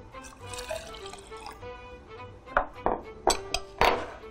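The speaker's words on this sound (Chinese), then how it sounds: "那我们先把这个蜜红豆粒加水" Water pours and trickles into a container of candied red beans in a kitchen, followed by several sharp clinks and splashes near the end, fairly quiet and close.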